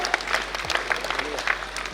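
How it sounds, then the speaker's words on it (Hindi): Children are honored with applause at a National Mathematics Day celebration at Gyan Bhawan in Patna, where a crowd claps briskly and continuously, with distinct hand claps close by. "भैया कृपया करके जोरदार तालियों से बच्चों का अभिनंदन करें"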